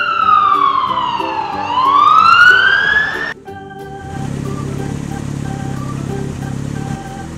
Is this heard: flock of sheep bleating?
no